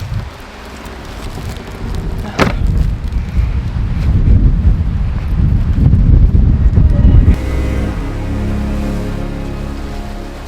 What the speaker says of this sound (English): It is pretty windy and cold this morning.